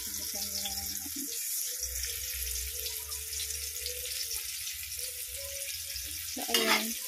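Tomatoes cooking in a frying pan for breakfast give a continuous soft sizzle throughout, with a nearby voice talking over it and a brief louder clatter near the end.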